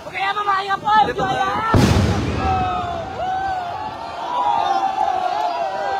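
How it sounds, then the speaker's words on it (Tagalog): A single loud, sharp bang of a truck tire bursting in a fire at a street rally cuts through steady background noise, followed by a lingering rumble and distant voices. "Yung narinig yung pagsabog, pagsabog ho ng gulong yun"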